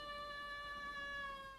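A cat lets out a single long, steady meow, faint and drawn out with a slight downward glide at the end.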